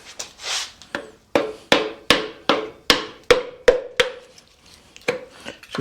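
Sharp metallic taps of a putty knife driven between engine parts to break an RTV seal on a Datsun's 2JZ engine, about a dozen quick strikes in an uneven rhythm, close and loud.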